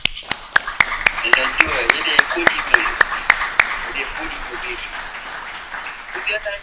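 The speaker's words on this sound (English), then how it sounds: "So I want to give you a round of applause." Applause from the audience at a public anniversary event with federal, state and local leaders in Los Angeles County, a dense wash of clapping lasting several seconds with regular sharp clicks cutting through and talk mixed in.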